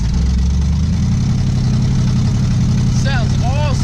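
A McLaren 720S engine drones loud and steady at close range while driving, a constant deep roar that fills the whole clip, with brief voices near the end.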